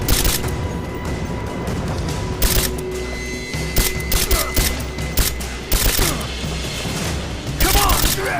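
Bursts of gunfire and volleys from the Rise of the Tomb Raider video game, with repeated loud clustered shots over a constant rumbling battle bed and shouted voices.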